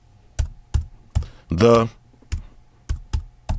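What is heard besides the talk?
typing on Brydge Pro wireless keyboard for iPad Pro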